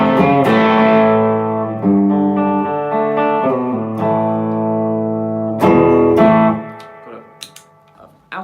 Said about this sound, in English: I'm also playing through the JHS Charlie Brown, which is one of my favourite distortion pedals of all time